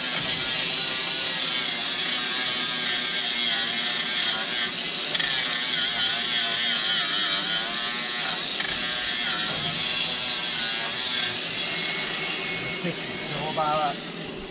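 An angle grinder with a sanding disc whines loudly and steadily, grinding welds on a metal trailer with brief pauses, while people talk over the noise.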